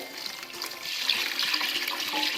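Chicken-and-tomato stock pours into rice for chicken mandi, a steady liquid splash and gurgle that swells slightly and runs on continuously at close range.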